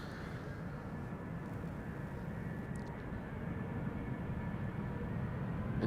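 Delta Air Lines Airbus A330neo, about a year old, holding on the runway threshold at Amsterdam Schiphol with a steady, loud broadband engine roar that swells slightly toward the end, no talking.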